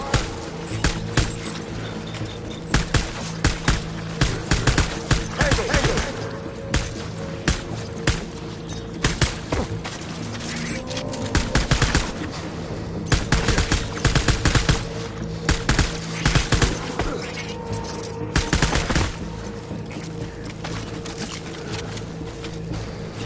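Gunfire in the video game Death Stranding, loud sustained bursts of rapid shots and scattered single cracks over a steady rumbling background, continuing without pause.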